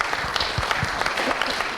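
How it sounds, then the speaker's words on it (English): An audience at a talk on healthy cardiovascular aging breaks into a short burst of steady, dense applause for the speaker, brief and moderately loud. "a round of applause for one of the best speakers we've ever had"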